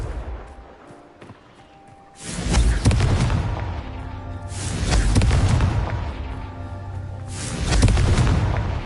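Booming spell blasts from the Confringo explosion spell in the video game Hogwarts Legacy, starting after a quiet opening, with three heavy deep bursts with rumbling tails roughly every two to three seconds.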